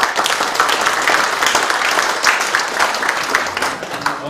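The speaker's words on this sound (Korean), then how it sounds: "시장님의 그 뜨거운 열정에 다시 한번 감사드리고 박수 한번 보내주십시오." An audience at a town meeting with the mayor in Seolseong-myeon, Icheon, gives continuous, fairly loud applause with a steady crackle of many hands and no speech on top.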